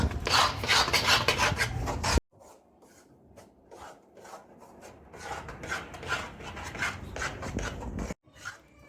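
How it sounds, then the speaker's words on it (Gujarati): Flour roasting in a pan is stirred with a utensil, giving loud repeated scraping rasps in bursts with brief pauses between strokes, up close and with no talk. "આને 10 થી 15 મિનિટ હલાવવાનું. પછી લોટ શેકાઈ જાય, લાલ જેવું થઈ જાય તો ઉતાર લેવાનું."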